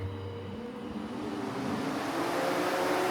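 An electric radiator cooling fan on an LS-swapped C4 Corvette runs steadily, a broad close whoosh of moving air that swells slightly and holds loud without a break.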